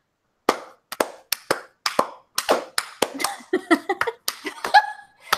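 A handful of people clap in loose, uneven bursts during a casual, boozy podcast hangout, with scattered laughter mixed in near the end.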